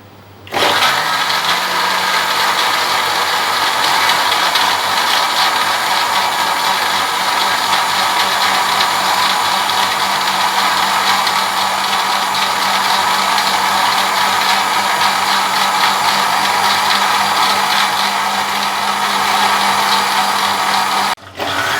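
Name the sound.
blender grinding fresh mint and ice for margarita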